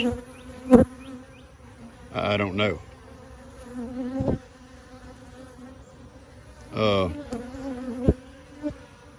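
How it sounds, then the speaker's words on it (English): Bees buzzing around a beehive box, several close passes sweeping loudly by the microphone over a continuous hum, with a brief spoken remark. "there's bees all over that box"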